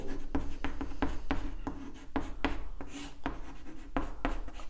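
Chalk or marker writing on a board during a physics lesson on Rutherford's atomic model, a brisk series of close, sharp scratchy strokes in uneven rhythm with short pauses, and no speech.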